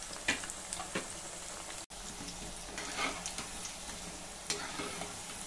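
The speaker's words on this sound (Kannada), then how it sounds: "ನೋಡಿ, ಈಗ ಗೋಬಿ ಗರ್ಗರಿಯಾಗಿ ಬೆಂದಿದೆ." Cauliflower for gobi 65 fries in oil, a continuous moderate sizzle broken by a few sharp stirring clinks and one brief dropout near the middle, with no talking.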